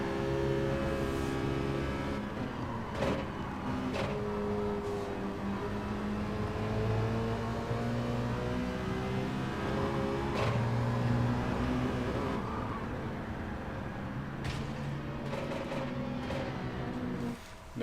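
Onboard engine of a Citroen Group 4 race car in Gran Turismo 7 at Autopolis, a steady loud whine rising and falling through gear changes with repeated sharp shift blips, close and continuous.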